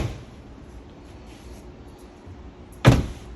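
A storage compartment door on a Jayco Terrain camper is unlatched and opened, a single sharp clunk near the end after a quiet stretch of low background noise.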